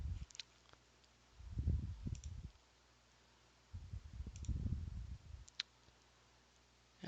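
A computer mouse clicks while someone works in CAD software, with a few crisp, isolated clicks spread among soft, muffled handling noise in a quiet room.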